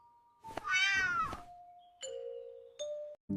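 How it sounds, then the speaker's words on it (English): A single cat meow, drawn out and clear, followed by two short electronic chime tones. "Cat says meow"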